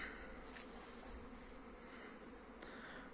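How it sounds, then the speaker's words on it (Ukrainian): Honeybees buzz across an apiary during a winter cleansing flight in January, a soft continuous hum of many insects with a few louder passes close by, otherwise faint and steady. "Всі літають. Пасіка гудить."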